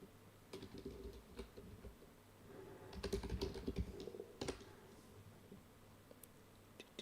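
Someone types on a computer keyboard in quick, uneven clusters of key clicks. A denser flurry comes in the middle, all close and fairly quiet with no talk.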